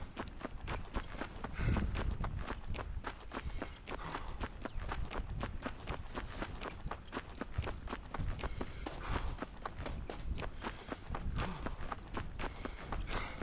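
Footsteps of a character walking on foot in the video game Red Dead Redemption, a steady, rhythmic run of quick crunching steps that continues evenly throughout at moderate loudness.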